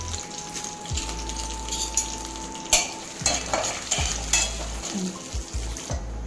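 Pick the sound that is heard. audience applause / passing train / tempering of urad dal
tempering of urad dal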